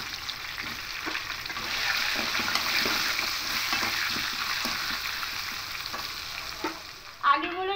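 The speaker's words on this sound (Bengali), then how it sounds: "আলুগুলো লাল লাল করে ভাজা হয়ে গেছে" Cut potatoes fry in hot oil seasoned with turmeric powder, producing a steady, close sizzle that lasts throughout, broken by soft scraping stirs and a brief clatter near the end, with nobody talking.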